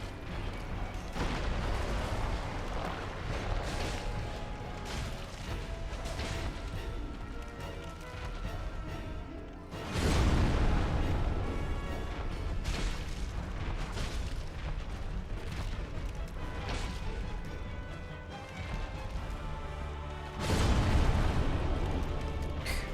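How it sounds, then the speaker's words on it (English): Explosions in the video game Dark Souls boom out as two heavy bursts, one about midway and one near the end, each rising out of a continuous rumbling game soundscape. "Not sure if rolling actually dodges the explosion."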